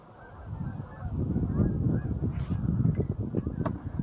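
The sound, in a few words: flocks of geese honking, snow goose or specklebelly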